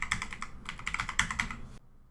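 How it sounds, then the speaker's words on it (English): Quick bursts of typing patter on a computer keyboard, close and fairly soft, with short gaps between clusters of keystrokes before the clatter stops abruptly near the end. "simply go to Windows search and type services"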